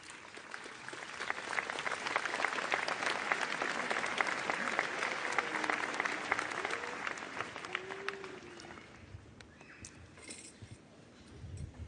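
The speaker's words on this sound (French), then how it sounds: "s'il vous plaît, n'applaudissez plus." A church congregation applauds at a pontifical celebration marking 400 years since the apparition of Saint Anne, a dense, sustained clapping that slowly thins toward the end, with faint tonal sounds briefly rising through it.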